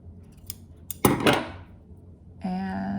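Scissors snip through embroidery thread on a felt heart: one short, crisp cut close by in a quiet room, followed by a steady hum.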